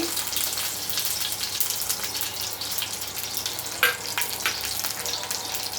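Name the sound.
mustard seeds, curry leaves and fenugreek seeds sizzling in oil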